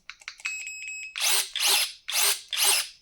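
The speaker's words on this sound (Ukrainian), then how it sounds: "Звук як в секатора." A cordless electric pruning shears motor whirs in four strong, evenly spaced bursts, each rising and falling, after a string of short electronic beeps and a steady tone, close and fairly loud.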